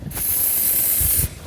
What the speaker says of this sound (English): So with it jacked up like this, we'll just spray it on that inside there,